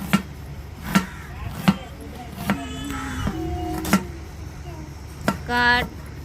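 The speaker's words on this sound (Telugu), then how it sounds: "వాటిలో కావాల్సిన వెజిటేబుల్ తీసుకొని కొన్ని కట్ చేస్తున్నాను అనమాట అది చూడండి సన్నగా" A knife chops onions and vegetables finely on a board in a string of sharp, separate strokes, some closely spaced, with squeaky, tonal scraping sounds between cuts and a short rasp near the end.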